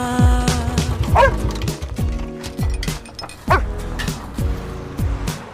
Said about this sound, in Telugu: కుక్కని తెచ్చుకున్నావు అబ్బాయి ముద్దుగా ఉంది